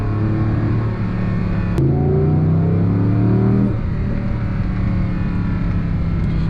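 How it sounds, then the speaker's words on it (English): A 2024 Audi R8 supercar engine rumbles loudly and steadily, its deep tone rising in a brief rev before settling back to a heavy idle. "Oh, this sound. Ho, ho, ho, ho. That's a clear supercar sound. It sounds so good."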